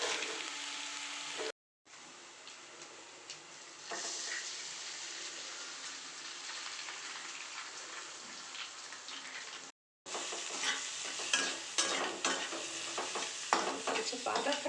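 Egg fried rice crackles and sizzles in a pan as it is stirred and tossed, close and continuous with brief cuts in the sound, and no one speaking.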